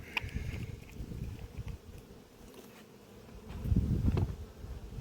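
Hornet hovering around a beehive at an apiary, a faint buzzing drone that swells and fades as it moves, louder toward the end, with outdoor background noise.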